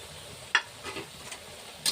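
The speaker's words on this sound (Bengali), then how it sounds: "তো এইভাবে নেড়ে আবার ঢাকনা দিয়ে দেব" Ridge gourd, potato and poppy seed curry with soybean is stirred in a pan: a brief soft sizzle with two quick spoon scrapes, faint and close.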